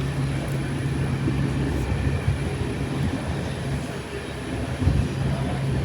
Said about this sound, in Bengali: তো আমাদের ট্রেন ছেড়ে দিয়েছে এখন আসানসোল থেকে